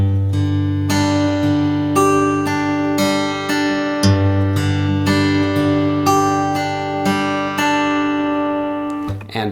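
An acoustic guitar plays fingerpicking pattern number 8 alone, plucked notes ringing out in a steady rolling rhythm over sustained bass notes, clear and close before fading at the end.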